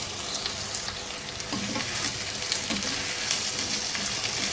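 Okra and tomato hit frying onions in a pan, giving a bright, continuous sizzle with soft scraping and stirring sounds from a spoon, close and steady with no talking.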